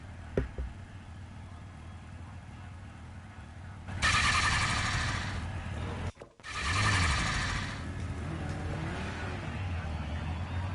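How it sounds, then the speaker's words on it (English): A touring car engine in a racing video game drones in the background during qualifying, then surges into a loud rev that drops out briefly and returns, with voices talking over it. "I'm going to hear a car revving up there"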